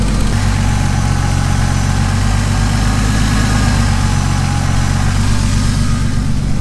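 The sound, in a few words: BMW E46 engine idling at about 900 rpm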